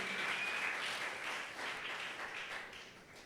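A church congregation applauds at a Sunday evangelical service, many hands clapping in a steady, moderately distant roar that slowly fades.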